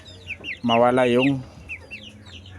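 A sick young chick with a cold makes short chirps and a louder clucking call near the mic, with someone speaking briefly in the background.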